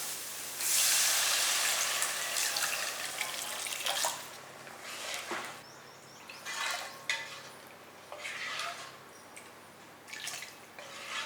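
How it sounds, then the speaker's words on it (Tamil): Water splashes into a pan of sautéed spices for fish curry with a bright gushing pour at the start, followed by bubbling, dripping and clinking of utensils against the pan. "இப்போ என்ன பண்ணுவோம், தண்ணி ஊற்றிடலாம்."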